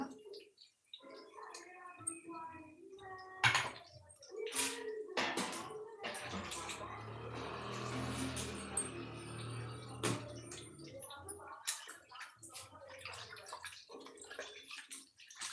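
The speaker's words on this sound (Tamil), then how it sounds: "கொஞ்சம் தண்ணி ஊற்றிக்கிறேங்க" Rice-washing water poured into a pot of nagarai fish curry while cooking makes a running splash that builds over several seconds in the middle, alongside scattered knocks and clatter and birds cooing in the background.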